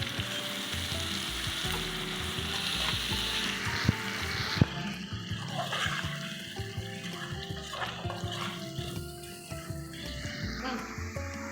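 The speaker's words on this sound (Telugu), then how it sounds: "ఆనియన్స్ ఫ్రై అవుతున్నాయి." Onions frying in a pan for khichdi, a steady close sizzle with occasional stirring clatter and a couple of sharp knocks, continuous throughout with no talk.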